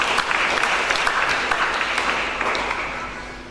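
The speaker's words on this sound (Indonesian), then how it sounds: "Kita berikan tepuk tangan." A congregation at a church wedding on Lembata, NTT, applauds a men's parish choir: brisk, dense clapping that holds steady, then gradually tapers off.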